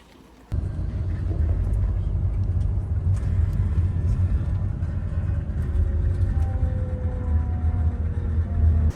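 A tour bus travelling between Barcelona, Seville and Córdoba in Andalusia gives off a steady, loud engine and road rumble from inside the cabin that starts abruptly and holds through the whole stretch.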